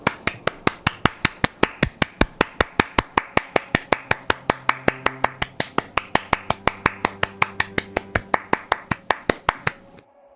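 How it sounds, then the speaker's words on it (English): A single person claps steadily, about forty sharp, evenly spaced claps in quick succession, close and crisp, ending abruptly. "A round of applause."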